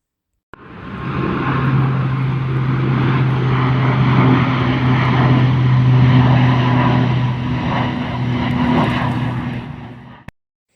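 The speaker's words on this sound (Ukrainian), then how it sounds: "Так, це літак" A propeller airplane drones steadily and loudly for about ten seconds, a low engine hum holding constant before cutting off abruptly.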